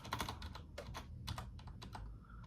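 Rapid keystrokes clatter on a computer keyboard during spreadsheet-style data entry, a dense irregular burst of close, crisp taps with no voices over them.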